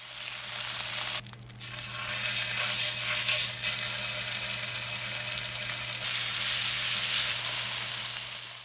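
Skinless wild hog and bacon longganisa sizzles steadily in a pan as a second batch is added, a continuous crackling hiss with gentle surges and a brief dip early on.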